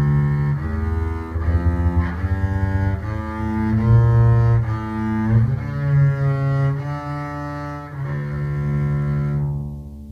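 Notes from a 2015 studio double bass played on its first two strings, rich in harmonics: a steady run of sustained, full-bodied pitches changing every second or so, close and fairly loud, then fading out at the end, with no talking.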